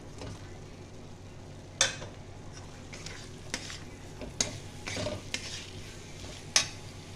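Eggs fry in a small amount of oil in a home kitchen, a soft, constant sizzle broken by several sharp utensil clicks and scrapes against the pan.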